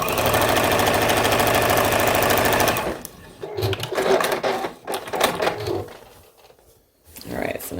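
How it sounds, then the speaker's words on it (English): A sewing machine stitches fabric strips for a quilt, a fast steady mechanical chatter for about three seconds that then stops, followed by someone speaking amid light handling noises. "Alright, so now that's sewn down and secure."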